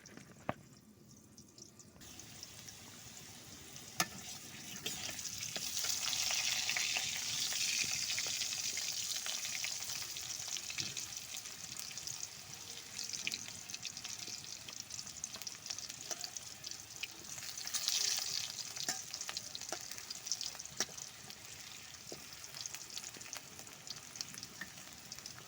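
Pointed gourd pieces fry in oil in a wok, a steady, moderately loud sizzle and crackle lasting throughout, swelling in places as the pieces settle, with no voices.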